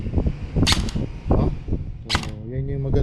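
A Daniel Defense RIS III airsoft gun fitted with an SP150 spring, type O cylinder and double O-ring air seal nozzle fires two sharp, close shots about a second and a half apart, with someone talking between and after them.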